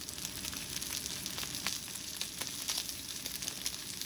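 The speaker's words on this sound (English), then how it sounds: "When the oil begins to smoke, put your steak in and press down on it" Steak searing in smoking-hot vegetable oil in a pan gives a steady, broad sizzle with small crackling pops, continuous and fairly close, with no talking.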